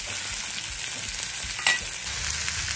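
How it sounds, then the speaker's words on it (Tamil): Onions sauté in a hot pan for chicken manchurian, giving a steady, close hiss of sizzling oil with one brief scrape of a utensil partway through; no one speaks. "இப்போ நான் வெங்காயத்தை சேர்த்துட்டேன். சேர்த்ததோடு இதை வதக்கி ஒரு வதக்கு வதக்கினோட"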